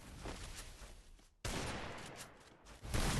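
Dense, loud bursts of gunfire from the shooter game Free Fire, broken by a short drop-out midway, then resuming and swelling louder near the end.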